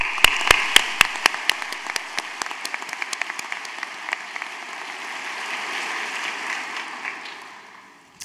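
Commencement crowd at Parkland College applauding, opening with a few sharp, distinct claps that quickly merge into sustained, dense applause before fading out.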